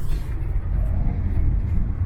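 A camper van rolls along the road with a steady low rumble of engine and tyres from inside the cabin. No one speaks.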